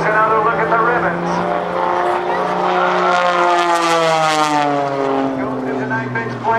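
A propeller aerobatic airplane flown by Patty Wagstaff at the 2008 NAS Oceana Airshow drones loudly overhead, its engine pitch sliding steadily during a roll. An announcer's voice talks over it.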